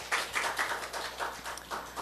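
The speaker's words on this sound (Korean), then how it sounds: "우리 하나님께 박수 올려드려요" A congregation claps during a Korean church morning service, a steady run of close, rhythmic handclaps that fills the room for a couple of seconds.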